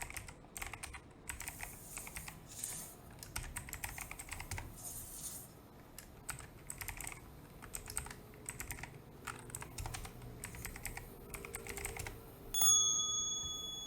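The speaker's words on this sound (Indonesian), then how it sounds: "jadi ada notifikasi bunyi itu ini ya" Notification chime from SIMRS MEDION hospital electronic medical records software rings out bright and clear near the end, after a long stretch of steady computer keyboard typing.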